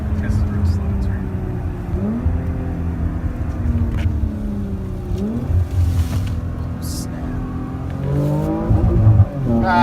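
A Porsche Macan GTS engine revving up against the rev limiter on a test drive, loud rising tones that climb and cut back repeatedly, heard from inside the car with people talking over it.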